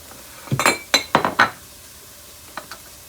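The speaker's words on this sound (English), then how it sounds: "So we're gonna let this cook, get these onions stirred." Onions are stirred in a pan with a utensil, making a quick cluster of scraping clinks followed by two faint taps after a pause, close and fairly quiet.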